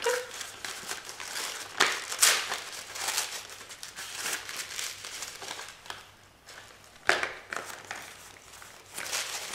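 Pink plastic Avon mail parcel with colourful tape being handled and opened, giving bursts of close crinkling and rustling with sharper crackles, steady and fairly quiet, with no speech.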